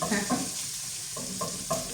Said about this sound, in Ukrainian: І смажимо.